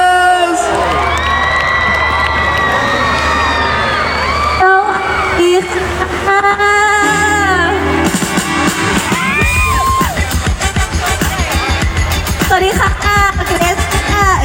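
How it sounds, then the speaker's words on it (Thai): A large crowd at a school anniversary celebration cheers and shouts over loud music, with voices talking through the noisy festive din. "ถ้าพร้อมแล้วเนี่ยเสียงปรบมือหน่อย"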